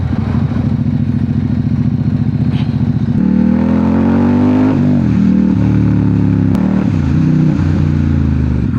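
Ducati motorcycle engine at a shop in Mangalore, starting with a loud, steady throbbing idle, then revved up in several rising, falling bursts heard close by.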